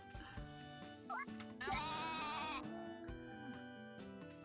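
A sheep bleats once, long and wavering, in the farming video game Story of Seasons: A Wonderful Life, heard over light game music with a few clicks around it.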